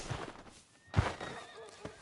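A horse whinnies in Red Dead Redemption 2, one sharp loud neigh rising out of quiet background with soft thuds and faint ambience around it.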